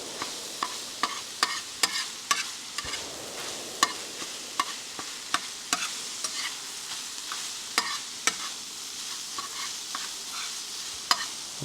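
Sausage sizzles on a smoking-hot Skottle while a utensil scrapes and taps against the pan in repeated sharp strokes over a constant frying hiss.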